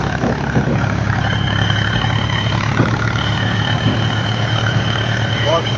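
A tractor engine idles close by in a rural forest area, giving a steady low rumbling drone with a faint tonal whine above it. The engine runs continuously throughout.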